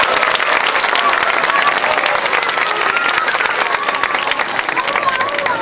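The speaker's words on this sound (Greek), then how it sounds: "Μας θέλει να του δώσουμε και ένα χειροκρότημα εκεί πέρα στη μελωδία." A show audience at Attica Park, Greece, claps for a dolphin's melody, a loud, dense wash of applause that runs steadily throughout with light crowd murmur mixed in.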